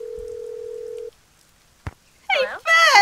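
In the Legend of the Crystal Skull video game, a steady phone tone drones for about a second and cuts off, then a short click follows, and a burst of game sound and voice closes the clip.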